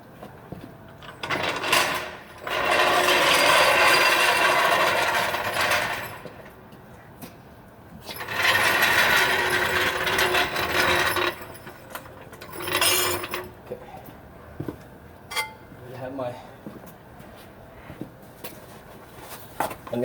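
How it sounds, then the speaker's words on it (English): A car jack is set under a Subaru Forester XT and worked in bursts, giving scraping, ratcheting mechanical strokes in two longer runs and a shorter one, with lighter clanks between. "So I'm just going to use this jack and just push"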